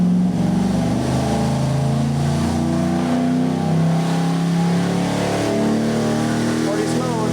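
A junkyard turbocharged 5.3L LS V8 held at a loud, steady roar on a dyno pull, its engine tone rising and shifting over several seconds as voices talk faintly underneath.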